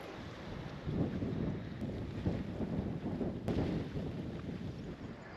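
Wind buffets the microphone outdoors on a sunny, cold homestead garden in Portugal, a close, rumbling gusty roar that swells and eases without anyone speaking.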